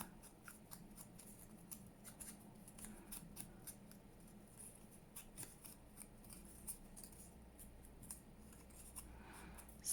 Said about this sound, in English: Just cut all the way around it.